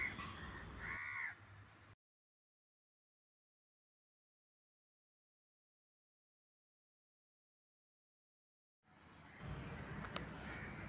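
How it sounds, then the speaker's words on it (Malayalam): Crows caw at a roadside truck stop beside a tyre shop, their calls fairly near in the opening two seconds, then a long stretch of silence before outdoor ambience and faint calls return. "കാക്കകളുടെ കൂടും കാക്കകളുടെ വിഹരമായ ഒരു സ്ഥലമാണിത്."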